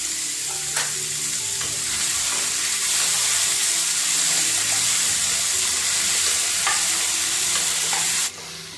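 Okra, tomatoes and drumstick sautéing in oil for an Onam sambar, with a loud, steady sizzle and frequent stirring scrapes that end abruptly near the close.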